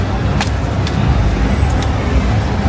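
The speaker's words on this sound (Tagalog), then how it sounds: "may traffic din pala sa kanila" Road traffic in Kuala Lumpur gives a constant loud roar of cars and engines, with a few brief higher hisses from passing vehicles.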